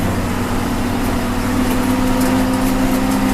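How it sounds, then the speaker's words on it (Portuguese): A John Deere 6130J tractor engine runs at steady speed near 540 RPM on the PTO while spreading lime, a constant close hum with a firm low drone and no voices. "Rotação do trator próximo de 540 RPM na TDP."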